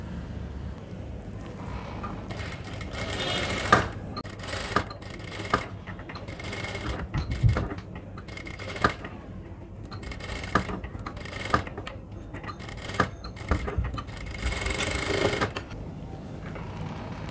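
Sewing machine stitching pieces of a high-neck blouse together in short bursts of rapid needle clatter separated by pauses, close and moderately loud, with no talk.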